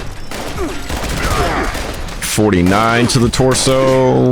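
Gauss minigun loaded with Anti-Armor rounds firing in Fallout 76, a dense fast burst of electric-tinged shots under a voice calling out damage numbers, then a louder harsh tonal whine in the final two seconds.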